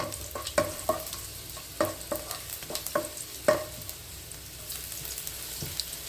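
Onions sauté in a pan for a chicken roast, a spatula knocking and scraping in irregular strokes over a low, steady sizzle, with no talking.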